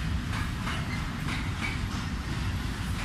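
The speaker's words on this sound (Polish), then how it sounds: "A tam stoi pociąg, pokaż ten pociąg." A freight train runs along the tracks, giving a steady rumbling roll with faint rhythmic clatter and hiss. The sound stays close and continuous throughout.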